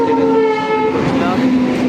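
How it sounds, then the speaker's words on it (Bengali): A passenger train pulling into an Indian railway station blasts a loud, sustained horn with steady tones over continuous rumbling platform and rail noise. "ট্রেনের আওয়াজ পাচ্ছি কিন্তু ট্রেনটা দেখতে পাচ্ছি না।"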